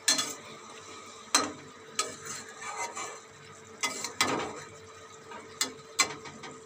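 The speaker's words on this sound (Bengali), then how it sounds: "আর একটু আমি নেড়ে দেখব, এপাশ সেপাশ একটু নেড়ে দেবো যাতে ঠিক সবগুলো সেদ্ধ হয়ে যায়" Pointed gourd curry stirred in a boiling pan, a series of scraping, clattering spoon strokes with quiet bubbling between them, close and moderately loud, with no talk.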